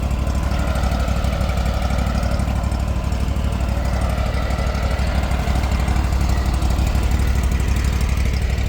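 A lawn mower engine runs steadily at close range, a loud, continuous low rumble with a rough, even throb throughout.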